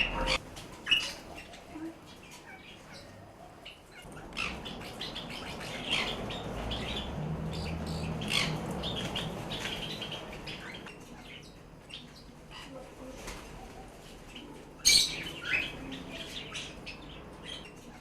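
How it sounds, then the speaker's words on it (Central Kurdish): Colourful pet birds kept in a room set aside for them chirp and squawk almost continuously, with several sharp calls standing out, including a loud burst near the end. "جۆرەها باڵندەی جوان و ڕەنگاوڕەنگی هەیە"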